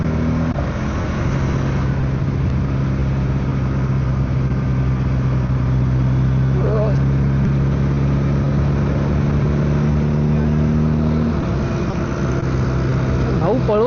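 A motorcycle fitted with an aftermarket exhaust rides at night with a loud, steady, deep drone that holds nearly level throughout, with a rider talking over it.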